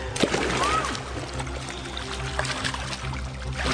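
Fresh water pours steadily from a vessel, a continuous close trickling and splashing stream with a faint squeak near the start.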